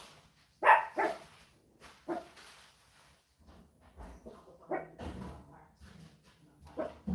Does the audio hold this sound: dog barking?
yes